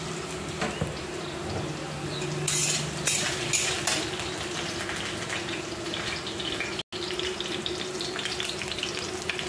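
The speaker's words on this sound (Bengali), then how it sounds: "আলুটা ভাজা হয়ে গেছে।" Potatoes with cumin, mustard seed and ginger fry in a pan for a vegetable curry, a steady close sizzle running throughout with occasional clinks of a utensil stirring and scraping.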